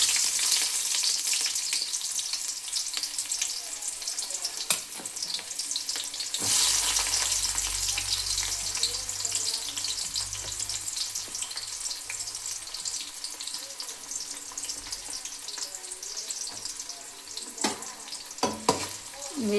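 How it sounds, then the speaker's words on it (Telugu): Two cut onions sizzle steadily in a pan of oil for an aubergine curry, with a continuous loud fry, occasional sharp utensil clicks and a brief low rumble partway through. "ఆనియన్స్ వేస్తున్నాను."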